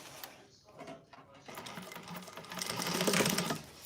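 Sewing machine stitching a handbag lining seam at 5/8 allowance, a fast close-up mechanical whir that starts, pauses briefly, then runs steadily louder, with faint handling noise alongside.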